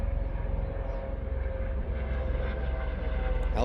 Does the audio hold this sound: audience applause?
no